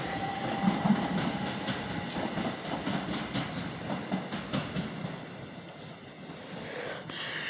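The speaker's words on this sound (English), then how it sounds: "Class 375, departing platform 4 at Sevenoaks for a depot." A Class 375 electric multiple unit pulls out of platform 4 at Sevenoaks, running out of service to a depot, with a moderate rumble and rhythmic wheel clicks over rail joints before the sound thins and fades near the end.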